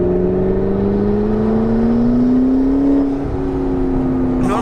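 A McLaren 650S Spider accelerating hard, its turbocharged engine giving a loud, steady rising whir and drone close up, the pitch climbing smoothly and dipping briefly near the end.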